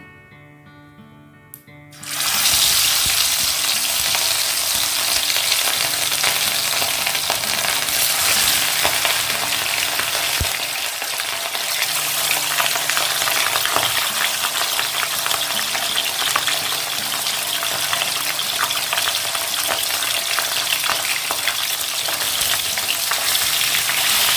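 Katla fish pieces dusted with turmeric frying in hot mustard oil in a kadai, a loud, dense, continuous sizzle that starts abruptly and stays steady and close for over twenty seconds with no talking.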